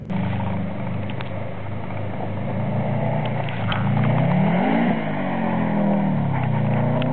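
A car engine revs and accelerates steadily on snow, its pitch rising and falling as it works hard, loud and close throughout with no talking.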